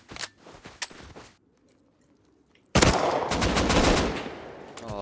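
Gunfire in the survival game Rust during a base raid: rapid close bursts, then a short silence, then a long, loud, sustained volley of automatic fire.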